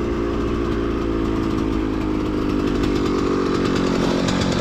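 A KTM motorcycle engine runs steadily with a buzzy, raspy drone, its cylinder leaking water. The engine is close, loud and constant throughout, with no speech over it.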